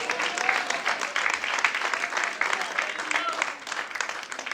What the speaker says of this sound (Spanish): Y le dan un aplauso grande al Señor.